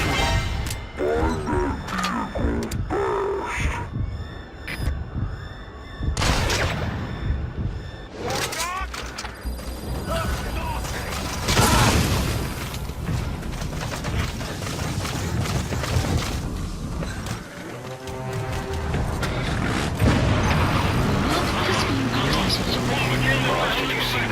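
Vehicle crash and explosion in Metal Gear Solid V: The Phantom Pain, with loud bangs, crashing impacts and rumbling amid game sound effects and music, while voices talk over it.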